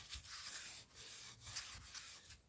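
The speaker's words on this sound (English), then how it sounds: "Then the last step is just with the steel wool" Steel wool rubs over a varnished wooden jewelry box in quiet, close, repeated back-and-forth strokes with a soft hissing rasp and short gaps between passes.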